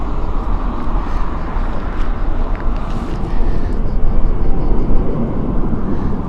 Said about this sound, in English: Going to Barcelona, this one, Airbus A320.